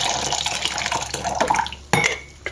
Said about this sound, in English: to pour the first cup of coffee out of it.